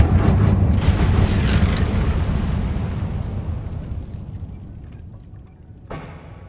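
Incendio fire spell cast in the video game Hogwarts Legacy, a loud booming burst that rumbles and slowly fades, followed by a short fresh crack near the end.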